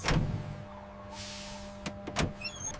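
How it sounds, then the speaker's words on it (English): A bus door opens and shuts with a few mechanical thumps and a brief pneumatic hiss, heard close over a low steady engine idle. "The doors on the bus go open and shut, open and shut, open and shut."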